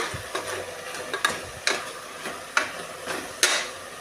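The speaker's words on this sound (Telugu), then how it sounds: "ఆ తర్వాత కొన్ని టమోటోస్ బాగా కలిపేసుకుందాం" A spoon stirs tomatoes into onions frying in a pan, giving sharp scraping clacks against the metal about every second over a low, soft sizzle.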